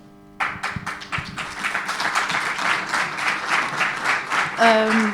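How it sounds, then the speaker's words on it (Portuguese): Applause breaks out at a student union election debate, a burst of clapping that starts abruptly and carries on unevenly, with a voice speaking over the tail end. "Peço que não batam palmas, por favor"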